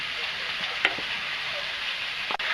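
Boiled amaranth-stalk greens stir-fried with turmeric and salt give a steady, close sizzle, broken by two sharp clinks of a utensil against the pan.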